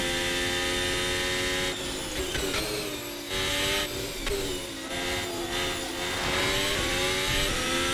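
A Formula 1 car engine in the Assetto Corsa racing game roars steadily with a brief splashy flutter as it cuts through a puddle at Imola, the motor staying loud and continuous throughout.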